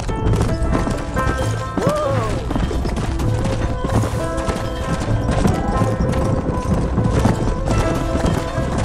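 Horse hooves clip-clopping at a gallop in the Western video game Red Dead Redemption, a steady rhythmic beat under a dense game music score, with a brief whinny.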